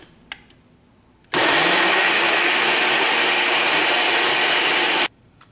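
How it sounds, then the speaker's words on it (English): A Ninja blender whirs through a frozen pineapple shake in one steady, loud roar lasting several seconds, starting and stopping abruptly with quiet room tone on either side. "got my Ninja blender ready. So I'm about to incorporate this"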